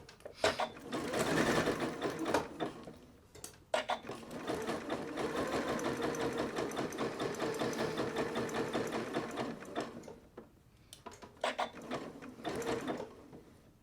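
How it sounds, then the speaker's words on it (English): A sewing machine stitches fabric for a thumbhole cuff in bursts of rapid mechanical whirring and clatter, with one long steady run in the middle and short stops between, close and clear. "So we just want to stitch all the way down to where we stopped stitching before, and don't go any farther."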